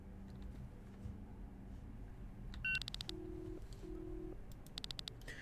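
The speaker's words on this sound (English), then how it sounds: "Phone ringing" Telephone dialing: a series of short electronic keypad beeps, followed by steady ringback tones in the earpiece that sound in separated bursts, all quiet and without talk.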